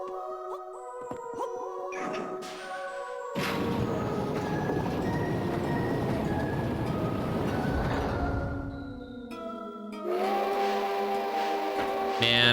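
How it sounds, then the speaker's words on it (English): A steam train in The Legend of Zelda: Spirit Tracks rumbles steadily in the mid-distance, its rolling clatter rising and falling beneath sustained musical tones; no voices. "Man, I love the sound of that train."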